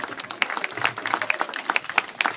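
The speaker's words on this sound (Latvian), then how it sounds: "Lūks, es palūkšu ovācijas." An audience applauds in a burst of dense, bright clapping that stays steady and fairly loud throughout, with a faint voice underneath.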